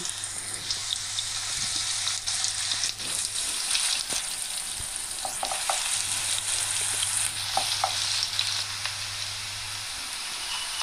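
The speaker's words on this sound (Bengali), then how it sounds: "তেলটা গরম হয়ে গেলে পেঁয়াজ কুচি দিয়ে দেব" Chopped onions sizzle in hot white oil in a pan, a steady crackling fry with occasional stirring scrapes, heard alone without talk.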